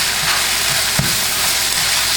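Rotel dip mixture cooks in a pan with a loud, continuous sizzle, and a single spoon knock or scrape lands about midway.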